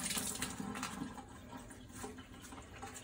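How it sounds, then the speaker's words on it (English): Water streams and drips from a mop as it is wrung out, a close, continuous wet trickle heard alone at low level. "Squeeze out the water."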